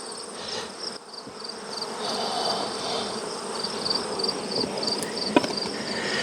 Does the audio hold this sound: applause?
no